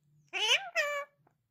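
A cat gives two clear, close meows in quick succession, the first rising and falling, the second slightly shorter, in a quiet room.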